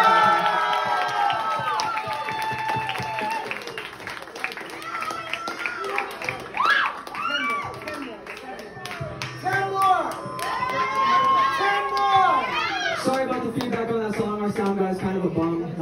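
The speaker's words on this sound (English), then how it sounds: "Everyone give one more hand of applause for Isla." A crowd cheers, whoops and claps for a performer named Isla at a live show, with scattered clapping and excited shouts, lively and fairly loud, mixed with overlapping voices and calls over roughly sixteen seconds.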